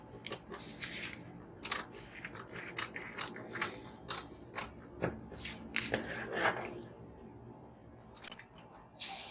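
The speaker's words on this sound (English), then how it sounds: "So I'm going to cut out my dart." Scissors cut a dart out of fabric for a corset blouse, producing a series of close, crisp snips and blade clicks at an uneven pace, with brief rustling of cloth between cuts.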